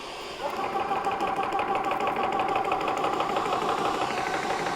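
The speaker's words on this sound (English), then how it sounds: "Now when I hit the on off, then it's actually going to start running the compressor." An Evanix Air Speed air compressor, its cooling fan already running, switches on after a brief moment and settles into a steady, rattling mechanical hum that continues without a break.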